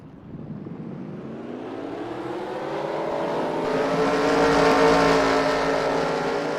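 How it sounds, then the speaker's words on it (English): Race car engines in NASCAR Racing 2003 fire up and rev together at the start of a 20-lap holiday main event, a loud, steady engine roar that rises in pitch and volume, with no talking. "Drivers, start your engines."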